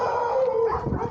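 A dog lets out a single short, drawn-out howl close by, holding a steady wavering tone for about a second.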